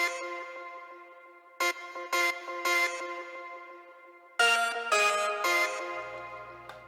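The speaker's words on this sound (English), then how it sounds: "I added here some vocal chops." Bright synthetic vocal chops for cyberpunk music, processed with EQ, distortion, delay and reverb, play in short stabs, pausing between groups, then a louder burst of rhythmic hits fades into a low hum.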